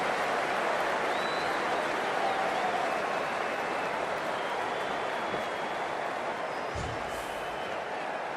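A stadium crowd in the Cricket 24 video game roars and applauds after a boundary, a dense, steady wash of cheering that holds at an even level from start to finish with no pause.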